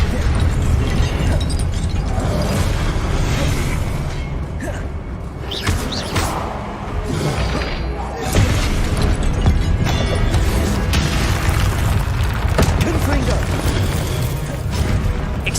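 Blasting-spell explosions and crashing debris from the Hogwarts Legacy game, dense and loud throughout, with a continuous rumble of booms and mechanical clatter in a Chamber of Secrets battle against statues.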